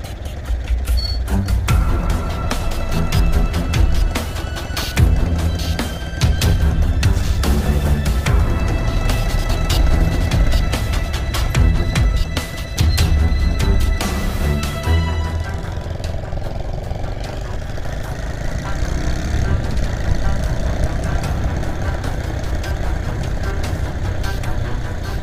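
A Honda C70 motorcycle engine with a detached, loose exhaust runs loud and close, a harsh rattling, uneven blatting drone with sharp tonal whines shifting through the passage.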